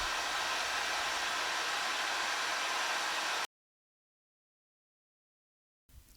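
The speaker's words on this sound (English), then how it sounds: "I used a heat gun and slowly rotated the pipe in the hot stream of air" A heat gun blows hot air over a plastic pipe as it is slowly rotated: a steady, loud airy roar for about three seconds, then it cuts out and resumes briefly at the end.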